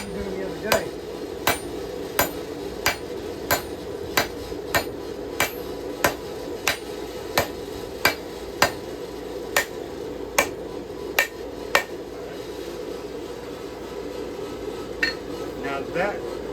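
A hand hammer strikes metal while a knife is forged by hand, giving a long run of sharp, ringing blows at a steady, even pace, close and clear against a quiet background, slowing and thinning out toward the end.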